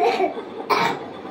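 A person with a winter cold coughs twice, close and loud, the two harsh bursts roughly a second apart.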